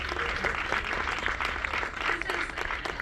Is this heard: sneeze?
no